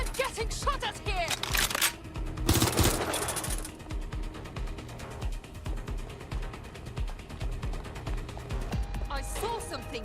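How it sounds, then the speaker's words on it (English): Gunfire in Watch Dogs: Legion: rapid, crackling shots, with a dense, loud burst near the start and then lighter, steady clatter amid other game noise. "I'm getting shot at here!"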